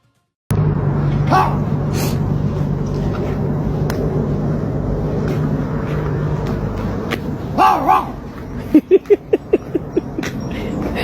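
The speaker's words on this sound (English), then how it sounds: "Listen to his bark." A dog barks several times in quick succession near the end, sharp and fairly close, over a steady background rumble.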